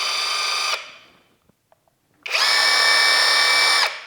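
An Avhrit impact wrench running on low mode to reinstall lug nuts whines in two bursts, a short spin, a pause with a few faint clicks, then a longer steady high-pitched run.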